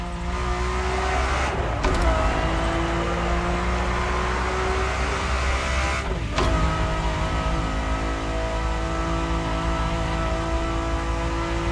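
A racing-derived supercar with a carbon fiber monocoque chassis holds a loud, steady engine note, with two short breaks like gear changes near two and six seconds.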